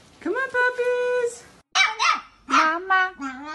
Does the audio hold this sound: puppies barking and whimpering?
yes